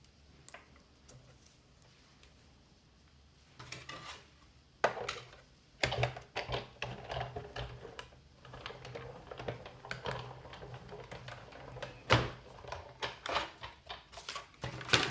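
A die cutter pressing and cutting paper with a round stitched-edge die for a window in an exploding box craft, heard as scattered sharp clicks and crunches with rustling between, close and fairly quiet.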